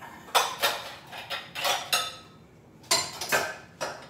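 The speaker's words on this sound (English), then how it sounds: "I'm just gonna grab a bowl, which I already should have had out" Dishes, bowls and utensils clinking and clattering in a home kitchen while a bowl is grabbed, a series of close, sharp knocks with short pauses between them.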